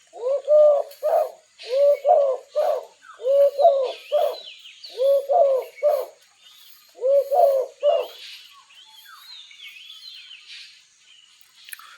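A male pigeon coos in repeated close, clear phrases of throaty rolling notes for about eight seconds, then falls quiet as faint background chirps remain.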